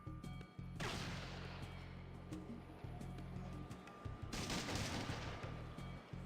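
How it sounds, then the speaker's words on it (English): Gunfire in the video game Fallout 2, a quiet burst of crackling shots early on, then a second harsher volley later, over a low game backdrop. "Wait a minute, Cassidy, who are you shooting?"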